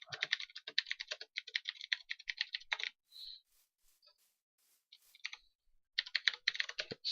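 Rapid typing on a computer keyboard, close and fairly loud, in two dense bursts with a quieter pause of sparse taps between them and no talk.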